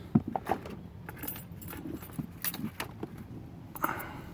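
Two keys for a Sportrack SR 1010 roof rack lock jangle and clink close by, with sharp metallic taps scattered over a few seconds.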